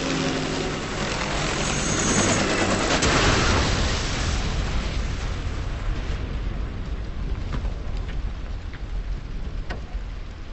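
Explosions and heavy gunfire in a Resident Evil 6 battle against a helicopter: a dense, roaring blast wall that swells near the start, then thins into a rumbling, crackling tail with scattered sharp bursts.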